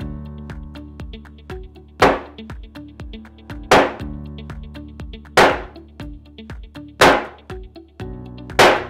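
An iPhone tempered-glass screen protector takes five hard, evenly spaced impacts, each a sharp loud crack that fades quickly, over steady background music.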